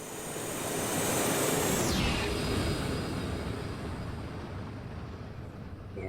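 An Embraer 145 jet passes by in the X-Plane flight simulator, a broad engine roar building to a peak with a high whine sweeping downward as it goes past, then fading into a steady rumble.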